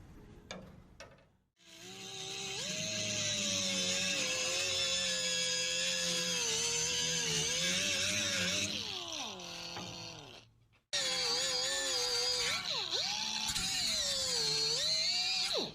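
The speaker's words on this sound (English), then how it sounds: "I went ahead and picked up my 1/4 inch drill bit and began drilling through both pieces of the sheet metal" A power drill with a 1/4 inch bit bores through two layers of sheet metal while a truck bedside assembly is being removed, giving a loud sustained whine with a pitch drop near the end, a brief stop, then a second shorter run.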